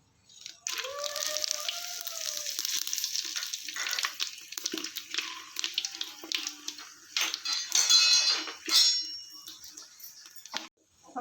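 Potatoes fry in mustard oil in a pan with a continuous close sizzle, broken by occasional metallic clinks and scrapes of stirring and a few short tonal rings near the start.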